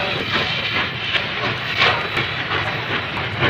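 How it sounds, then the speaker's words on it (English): A rumbling Class H5 Mikado steam locomotive picking up coal cars, with rhythmic chuffing and hissing steam, steady and close, with faint clanks of rolling cars underneath. "Mikado 1312 is busy picking up a few of the newly arrived coal cars"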